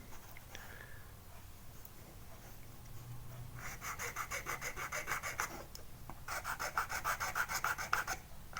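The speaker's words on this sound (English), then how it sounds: "The other thing I need to do is just sort of file these bits down like that." Hand file rasping down rough bits of a Morris Mini steering wheel under restoration, two bursts of quick rhythmic back-and-forth strokes, close and fairly quiet.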